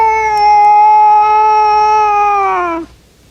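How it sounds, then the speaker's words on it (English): A cat lets out one long, loud caterwaul, a sustained wavering yowl held for nearly three seconds before it drops off abruptly, close and alone. "a spirited caterwaul might also be used during feline turf disputes"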